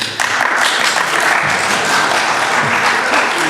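A church congregation applauding during a congregational meeting, dense, loud clapping from a full room that starts abruptly and stays steady throughout.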